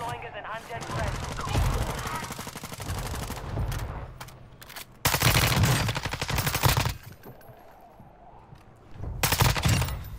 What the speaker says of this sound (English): Because I'm getting shot at from the left